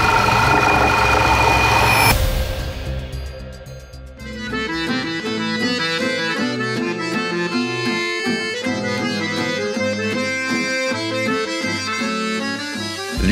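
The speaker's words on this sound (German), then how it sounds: "Ich habe nur noch 200 Kilometer und auf einmal ist hier irgendwie ein Brummbär im Motor." A cheap Bentley with a droning engine fault while driving on a long road test, a loud steady humming drone with an engine rumble underneath that holds the whole way through.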